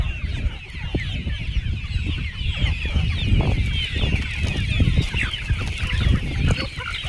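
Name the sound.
Javari chickens clucking at a poultry farm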